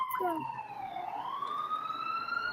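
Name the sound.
siren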